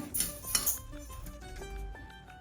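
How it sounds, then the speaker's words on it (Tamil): Roasted urad dal is tipped from a pan onto a plate, heard as faint metallic clinks and scrapes of utensil and dish, with a soft rattle trailing off, close by and without talk. "உளுந்து வறுபட்ட உடனே நம்ம இதை வந்து தட்டிடலாம்"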